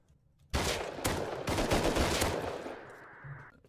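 Rapid gunfire from a video-game gun bursts in loud after a short quiet lead-in, a dense, sustained volley with sharp repeated cracks that trails off toward the end.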